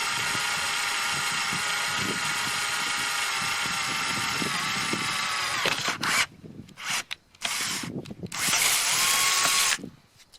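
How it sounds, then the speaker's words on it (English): A power drill whines steadily at close range for several seconds, then stops and starts in short bursts before one last sustained run. "I'll just drill some holes"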